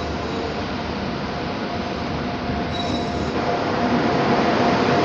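The Ekta Express passenger train on its first inaugural run at Ambala Cantt station, platform 1, rolls past close by with a steady loud rumble of wheels on rail and faint squeals, sustained throughout.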